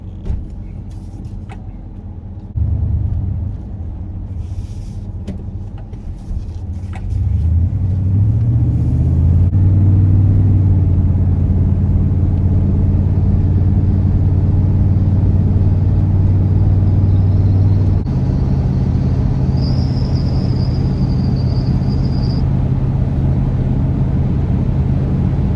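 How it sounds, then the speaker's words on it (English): A 1990 Ford truck's engine drones steadily on a test drive, a loud low rumble inside the cab that swells as it pulls away and then holds an even cruising note. "we got the 1990 Ford truck running up to snuff, and we're going to take it for a test drive"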